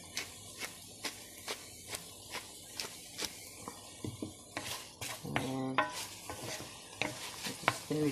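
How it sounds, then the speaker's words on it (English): Spicy chicken and vegetables being stirred in a pan after salt and pepper go in, a quiet sizzle under a regular rhythm of spoon taps and scrapes, then busier clatter and a short voiced sound near the end. "let's stir it in"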